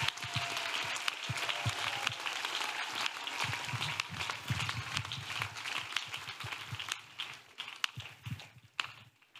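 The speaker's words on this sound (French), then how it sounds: "Acclamons. Let us clap." Dense clapping from a congregation at a church prayer meeting fills the space with many overlapping hand claps, then thins out and fades toward the end.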